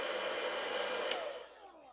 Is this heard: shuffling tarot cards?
no